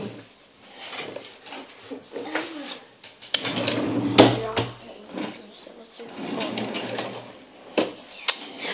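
A drawer in a bedroom being slid open and shut, with a few sliding clunks and knocks near the middle, close by, mixed with a person talking.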